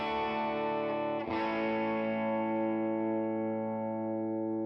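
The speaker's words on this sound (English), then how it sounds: "These are all totally dry, by the way. No reverb yet. And here's guitar 4." Dry electric guitar track with no reverb, a single sustained distorted chord ringing out with rich harmonics, restruck once with a brief pick scrape before decaying slowly and evenly.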